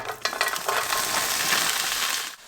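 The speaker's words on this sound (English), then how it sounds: "We're going to let this fry until the sliminess is completely gone" Okra frying in hot sunflower oil, a steady crackling sizzle with a few sharp pops near the start, close up and without voices.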